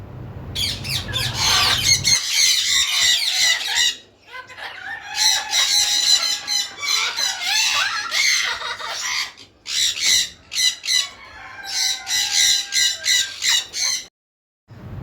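Chickens and other birds at the Al Wakra mini zoo squawk, cluck and crow in loud, overlapping bursts through most of the clip, with brief pauses between flurries.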